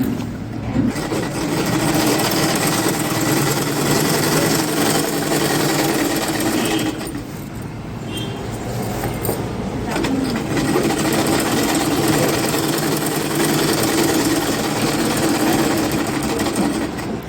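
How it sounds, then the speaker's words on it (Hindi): Sewing machine stitching fabric for underwear, a loud, fast, steady mechanical whir running continuously, briefly easing for a second before resuming at full speed. "और फिर से हमने इसके ऊपर भी सिलाई को चलाना है"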